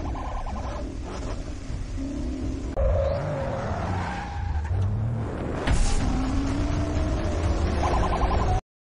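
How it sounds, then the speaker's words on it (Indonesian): Cars skid and squeal through a film car chase between a gang and police, with tires screeching in long sweeping wails and engines revving loudly throughout. "akhirnya kejar-kejaran geng Tara dan para oknum polisi pun terjadi"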